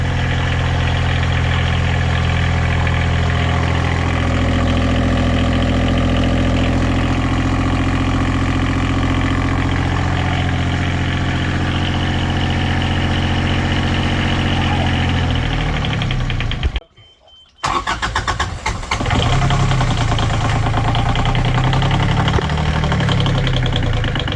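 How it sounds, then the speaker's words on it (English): A newly installed Beta 25 marine diesel on a sailboat runs at a steady, loud idle, then cuts out briefly and catches again, settling back into a rough, continuous thrum with a knocking edge. "Finally, the motor came to life."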